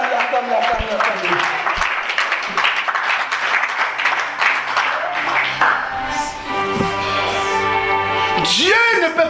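A church congregation applauds and cheers during a sermon, a steady roar of clapping and voices that runs throughout while a preacher's voice carries over it.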